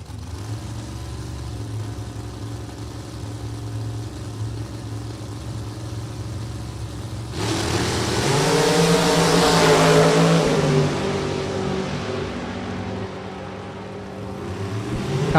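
A Top Sportsman drag racing car at Maple Grove Raceway idles with a low rumble, then revs hard partway through, rising in pitch and loudness before easing back to a rough idle.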